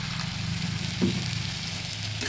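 Sliced beans and tomatoes sizzling in a hot pan with potatoes as a little water goes in, a steady loud frying hiss throughout with a brief stirring clatter midway.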